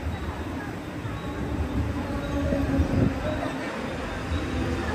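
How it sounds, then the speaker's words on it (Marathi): A train arriving at a station rumbles steadily close by, a low continuous roar of wheels and carriages, with faint murmuring voices in the background. "एवढे टायमानंतर आमची मस्त ट्रेन आलेली आहे"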